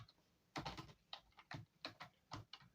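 Someone types a variable name on a computer keyboard in short bursts of close, crisp keystroke clicks, with small pauses between the groups and a quiet background.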